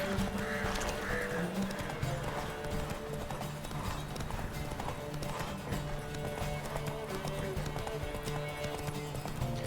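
Horse hooves clip-clop steadily as the rider travels in The Witcher 3 video game, a continuous trotting rhythm beneath ambient game sounds and someone talking.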